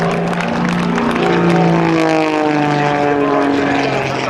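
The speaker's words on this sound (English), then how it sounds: "Jim LeRoy and the torque roll" A propeller-driven aerobatic airplane drones loudly and continuously during an airshow torque roll, its engine tone holding steady with slowly sliding harmonics and no voices.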